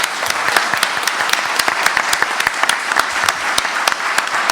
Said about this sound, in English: Can we give everybody a good round of applause there, please?